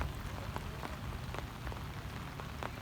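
Steady monsoon rain falling on a river, with scattered distinct drops tapping throughout; continuous and fairly close, no voices.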